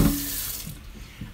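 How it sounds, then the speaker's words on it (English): Cold tap water runs into a kitchen sink as pots are rinsed, a steady close hiss with a brief splashy burst at the start and soft knocks of cookware underneath. "I just rinse my pots off first with cold water"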